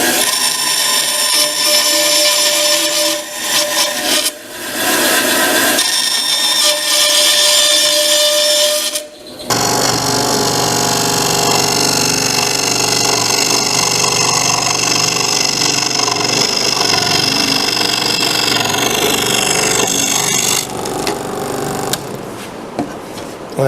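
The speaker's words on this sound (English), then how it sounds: "what I'm going to do is just cut this out with a bandsaw" A bandsaw cuts a slot into a wooden piece for a splayed bookcase base, making a loud, steady whirring drone with a high ringing edge that runs almost unbroken, with a few short dips near the start.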